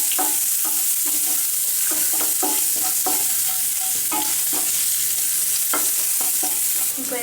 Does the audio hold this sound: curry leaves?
yes